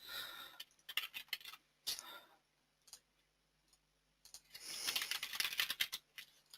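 Computer keyboard typing in clattering bursts of quick keystrokes, fairly close and moderately loud, with a pause in the middle before a denser flurry near the end.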